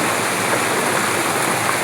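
Heavy rain falling, a loud, dense and steady rush of water with no breaks.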